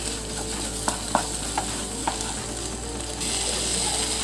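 Beef tipped into a pan of softened onions and spices, a steady loud sizzle with several sharp metallic scrapes and clinks of stirring, the frying growing brighter near the end.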